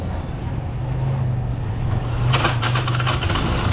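Motorcycle engine turning over on its starter bendix and catching, a steady low rumble that rises into louder rough running partway through, close by, with no talking.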